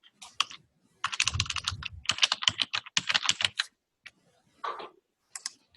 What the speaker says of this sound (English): Yeah, I just retyped it.